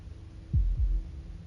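Heartbeat sound effect in the video game Slay the Princess, a few deep, muffled thumps in slow succession, close and alone over a low steady hum.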